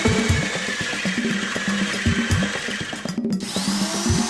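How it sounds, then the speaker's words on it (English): A power drill bores a lock hole through a door held in a lock-set jig with a backing board, its motor whining steadily with pulsing load changes and a brief dip near the end. "Now drill lock hole."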